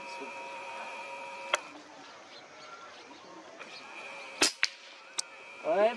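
An air rifle fired while hunting doves outdoors: a faint, quiet setting with steady insect or bird tones, then a few sharp snapping cracks near the end, one notably loud, followed by a brief rustling burst.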